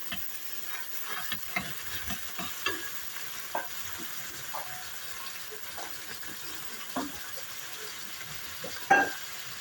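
Lentils roasting in a pan as a spoon stirs them, a soft steady sizzle broken by light scraping strokes and occasional louder clinks, heard close with no talking.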